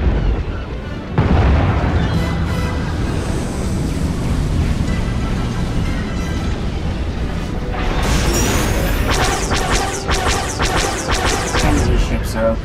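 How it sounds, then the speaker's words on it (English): Enemy starships opening fire in the SWTOR space battle, a steady roar of heavy blasts and rumbling impacts throughout, with a burst of sharper crackling shots and explosions toward the end. "Enemy ships are opening fire."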